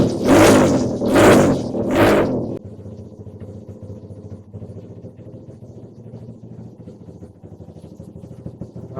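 A Honda CRF 100 dirt bike warming up: three loud, close revving bursts, then the engine settles into a steady, lower idle chug that carries on to the end.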